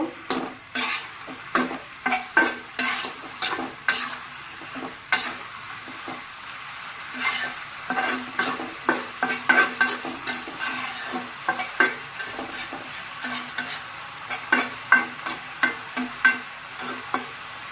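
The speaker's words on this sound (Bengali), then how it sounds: "নেড়ে দেব।" Dried fish curry with Malabar spinach seeds is stirred in a pan over low heat, a quiet sizzle running under repeated rhythmic scraping strokes of a spoon, close and clear.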